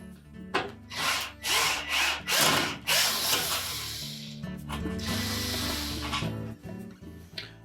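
A Phillips screw is backed out of a hinge pin on a Whirlpool range cooktop, giving a series of loud scraping, grinding bursts followed by a steadier rasping turn, close up with no talking.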